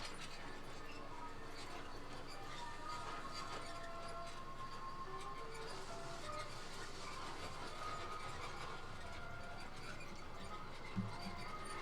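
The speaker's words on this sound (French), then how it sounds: "Above you is Disneyland's highway in the sky, traveled by sleek monorail trains." A Disneyland monorail train rumbles along steadily with a continuous mechanical whir and hiss, moderately faint, with a voice speaking faintly beneath it.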